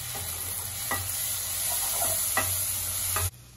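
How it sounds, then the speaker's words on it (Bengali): Ground spices, including Kashmiri red chilli powder and sugar, sizzle in hot oil as they are stirred in a pan for a tilapia mustard curry. The frying is steady and close, with faint scrapes of the spoon. "এবার আমি সমস্ত মশলা ভালো করে মিশিয়ে নেব।"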